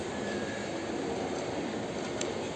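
A steady, loud rumbling roar of a metro train pulling in, with a broad continuous noise and a faint high squeal near the end.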